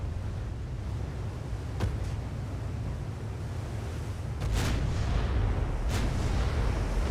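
Heavy naval guns boom across open water in the warship game Ultimate Admiral: Dreadnoughts, with a couple of sharp salvos standing out over a constant roar of sea and wind.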